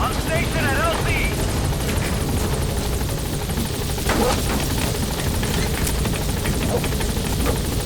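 A Pequod helicopter from Metal Gear Solid V arrives at a landing zone, its rotor thumping loud and steady throughout while a radio voice talks over it.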